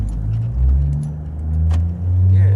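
A 700 hp Ford G6ET Barra running on E85 with new stage 1 billet camshafts, idling in a deep, loud, lumpy burble that rises and falls unevenly, heard close without talk.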